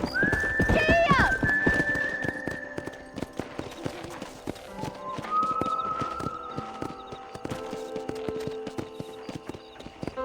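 Horse in the Western video game Red Dead Redemption neighing loudly near the start, then galloping with a fast, continuous clatter of hooves under a game soundtrack, with a rider's shout early on.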